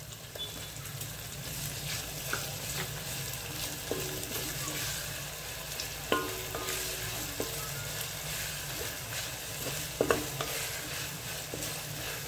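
Tomato fries and is stirred in a pan for a traditional bajari amti, giving a low sizzle with intermittent clinks and scrapes of a spoon, fairly quiet throughout.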